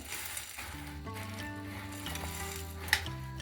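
Boondi being stirred into jaggery syrup for hard laddu, a soft continuous scraping and sizzling stir in a pan with steady background music and one brief clink near the end.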